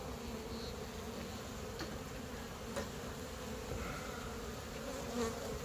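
Steady, dense buzzing of honeybees swarming around an opened hive after its board has been removed, a continuous agitated hum with occasional louder bees passing close.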